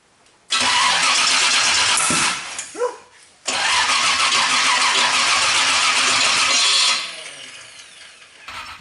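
A street stock race car engine running open manifolds with no mufflers on its first start: it cranks and briefly catches, then cuts out. After a short pause it fires again and roars loudly and steadily for several seconds before dropping to a quieter idle.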